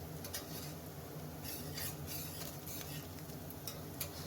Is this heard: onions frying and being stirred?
yes